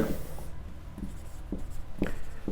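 Chalk or marker writing on a board during a geometry lesson, a few short scratchy strokes spaced about half a second apart over faint room noise, with no speech in between.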